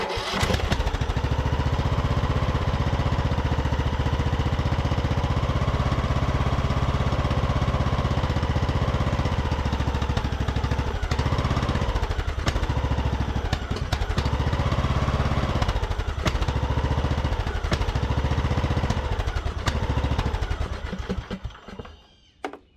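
A Craftsman YT3000 riding mower engine runs steadily and smoothly at close range for about twenty seconds with a quiet muffler, then cuts off near the end.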